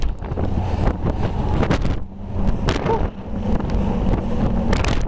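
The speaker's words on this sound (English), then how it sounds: "it's very windy" Strong wind buffets a handheld outdoor microphone, a loud continuous low rumble that surges and eases in gusts over several seconds.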